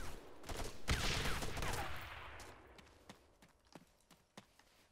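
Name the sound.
gunshots in ArmA 3 video game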